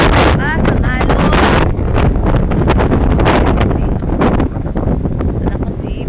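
Strong sea waves surge against a shore during the northeast monsoon, with heavy wind buffeting the microphone in a continuous loud roar and rush. A person speaks over the noise.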